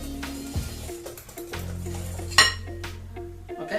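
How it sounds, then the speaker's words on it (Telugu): Banana cake batter being mixed in a bowl, with clinking and scraping of a utensil against the bowl, a bright metallic clink midway, and a low steady hum underneath. "చూడండి, ఇలా మొత్తం మిశ్రమాన్ని బాగా కలుపుకుందాం."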